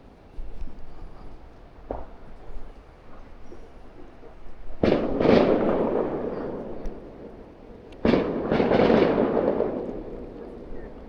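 Fireworks and firecrackers go off at night in Miyi County town: two sudden loud bangs several seconds apart, each trailing into a rumbling crackle over a steady background of street ambience.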